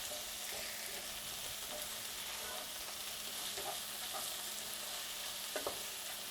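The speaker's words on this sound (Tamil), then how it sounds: "வெங்காயம் நல்லா பொன்னிறம் ஆகிற வரைக்கும் நம்ம நல்லா வதக்கிக்கணும்" Onions sautéing in a pan for chicken thokku until golden, making a continuous, soft hiss of frying with occasional light scrapes and taps of stirring close by.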